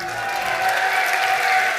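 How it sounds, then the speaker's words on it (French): Brief, dense audience applause fills a hall at a Mayenne sports awards ceremony, steady and fairly loud for about two seconds. "on peut l'applaudir bien fort, bravo"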